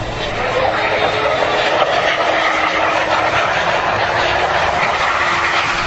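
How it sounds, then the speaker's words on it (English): A Boeing 767 belly landing on the runway without landing gear, heard from inside the cabin as a loud, steady roar and rumble that persists throughout with no break. "This is the moment of contact on the runway, shot from inside the cabin."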